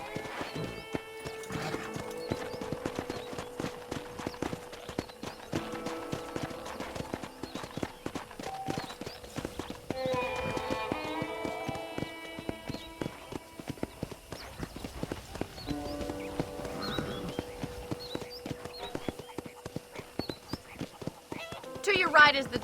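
Steady clip-clop of trotting horse hooves in an even rhythm throughout, with a whinny and a person talking over game music, from Red Dead Redemption.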